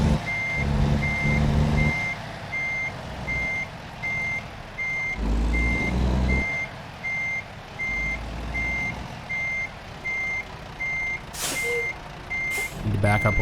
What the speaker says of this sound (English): Some loud, obnoxious beeping,